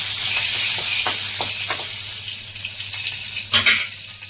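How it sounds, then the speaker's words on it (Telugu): Green chillies frying in hot oil in a pan for gongura egg curry, a soft steady sizzle with a few stirring scrapes and one louder clatter near the end. "ముందుగా పచ్చిమిర్చి వేసుకున్నాము, వేయించుకున్నాము."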